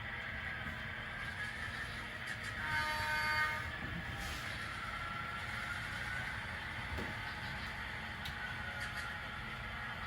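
An HO scale model train backs up slowly along the track toward switches on a layout, with faint clicks and squeaks, fairly quiet and steady, with no talking.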